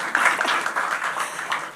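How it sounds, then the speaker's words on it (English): A crowd at a tourism awards event claps for the Junior Tourism Minister winner, a brief bright round of applause at steady moderate loudness. "Can we please give her a round of applause?"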